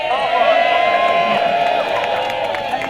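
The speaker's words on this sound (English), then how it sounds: "So give us a cheer if you walked over from Hound" A large outdoor crowd, many of them walkers who came over from Hound Tor through heavy rain, cheers and whoops loudly and steadily for about three seconds, a dense wall of voices with no single speaker standing out.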